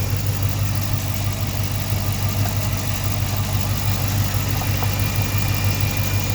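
A Dodge Magnum SRT with a newly fitted alternator idles smoothly and loudly up close, a steady low rumble that holds even with no voices.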